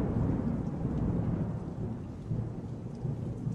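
Steady rain pours with low, rolling thunder rumbling throughout in the horror video game TJOC:R, a dense, continuous storm bed with no voices.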